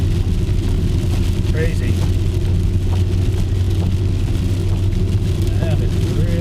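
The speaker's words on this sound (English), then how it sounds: "That is really heavy rain" Heavy rain pours steadily onto a moving car during a storm, a dense continuous roar mixed with road and engine noise from inside the vehicle, while a person speaks briefly over it.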